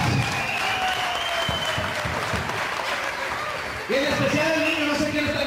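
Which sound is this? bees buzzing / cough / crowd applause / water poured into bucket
crowd applause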